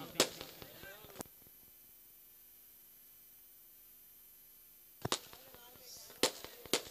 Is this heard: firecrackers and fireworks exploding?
yes